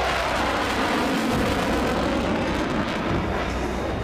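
US fighter jets and armed drones flying together in formation during an elephant walk drill, a loud, steady roar of jet engines that fills the whole clip without a break, with no talking.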